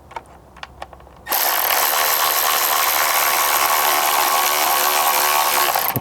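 Power tool driving and tightening bolts on a Bestway Flowclear pool pump filter housing, a loud steady whir that starts after a few faint clicks and runs continuously to the end.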